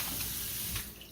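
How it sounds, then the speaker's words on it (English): Steady rush of tap water into a sink while jerky meat is rinsed, a close, continuous splashing flow that eases slightly near the end. "I'm going to go ahead and rinse this stuff out and get it on my flat pan"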